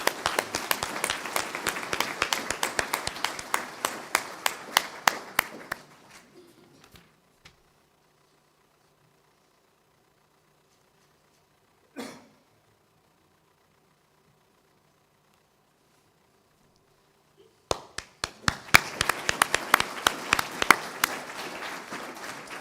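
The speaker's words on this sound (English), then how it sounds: "Andy, a rightly so round of applause." Audience applause at an awards ceremony: several seconds of scattered clapping fade into near silence with one brief thump, then a fresh burst of clapping rises again toward the end.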